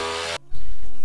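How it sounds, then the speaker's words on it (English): A power saw cuts through a boat's floor section to reach the bilge, a loud steady whine that drops off briefly, then restarts with a deeper, rougher cutting drone. "So I just need to cut out this section of floor so we can access the bilge area here."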